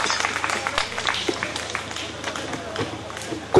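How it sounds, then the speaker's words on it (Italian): Audience applause at an event, steady scattered clapping from many hands sustained throughout at moderate loudness, with a few sharper individual claps. "Chiudiamo con un applauso questo momento."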